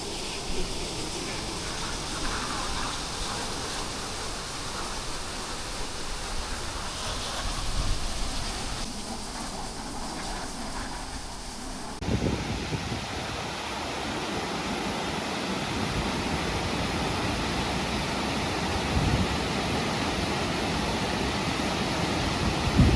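Spray from Ruichonda waterfall at Mandohol Dam makes a constant, loud, broad roar of falling water. The roar shifts in tone partway through, as if the listener moves nearer.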